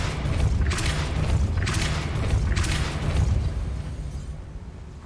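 A Depulso spell in Hogwarts Legacy booms out as a deep, rumbling blast, with several bright bursting surges rising over a sustained low roar that slowly fades.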